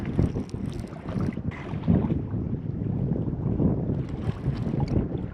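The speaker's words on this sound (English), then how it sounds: "The wind found me again." Wind buffets the microphone aboard a fishing boat on the Potomac, a continuous rumbling roar with gusty swells and faint water and hull noise beneath, no talking.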